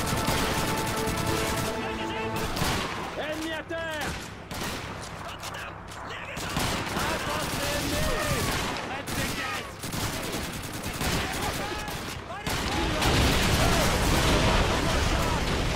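Rifle and other weapon fire in the video game Call of Duty 2 cracks out in irregular bursts and single shots, with distant booms and a loud clatter of battle, while someone talks over part of it.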